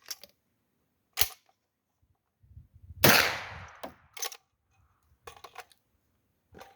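A smoothbore shotgun fires test shells in an open field: a series of sharp, loud blasts spaced a second or so apart, the heaviest with a lingering crack and rumble, and clicks and handling noise between them.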